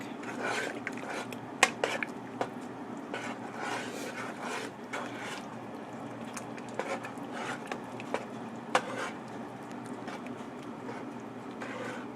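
Spoon scraping and clinking against a pot while creamy lasagna soup is stirred, a continuous soft churning with occasional sharp metallic taps, close and moderate in level.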